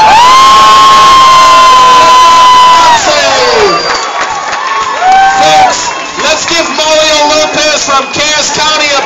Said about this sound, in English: a big round of applause coming in here into the Lions Den